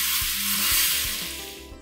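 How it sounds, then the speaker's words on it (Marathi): Hot tempering of mustard seeds and asafoetida poured onto a turmeric pickle sizzles loudly and continuously close up, a bright frying hiss that slowly fades toward the end. "ही गरम गरम फोडणी आपण लोणच्यावर ओतून घ्यायची"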